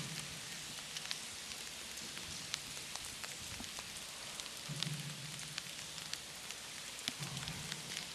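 Steady rain patters and hisses across the whole stretch at an outdoor towed water-ski competition, a faint, even wash with scattered drop ticks and occasional low thumps.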